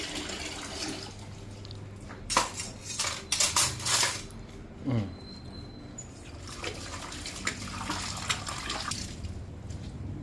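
Dishes being washed in a sink: plates and cutlery clink and clatter in irregular bursts over the faint trickle of running water, close by and moderately quiet.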